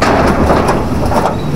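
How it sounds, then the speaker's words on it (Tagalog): Rain pours down steadily during roof work on an old house being re-roofed with metal sheets, a dense, continuous hiss that stays loud and even throughout with no voices. "dinabot kami ng ulan"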